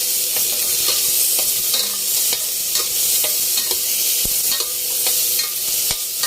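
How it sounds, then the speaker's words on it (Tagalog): Ginger sautéing in a pan for Filipino sinigang na tawilis, a steady loud sizzle with occasional stirring clicks and scrapes, no talking. "isusunod natin igigisa itong luya"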